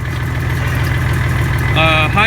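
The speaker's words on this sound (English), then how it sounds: "The engine will keep running because you're not pulling down on the clutch." An IH Farmall 560 tractor engine idles nearby with a steady, low, throbbing drone, and a brief voice-like sound rises over it near the end.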